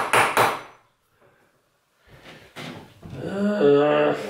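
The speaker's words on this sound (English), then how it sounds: "before it became too late to continue hammering nails into said wall" Nails are hammered into a wall to hang pictures. A couple of sharp, close knocks ring out at the start, a pause follows, then more thuds and a brief vocal sound.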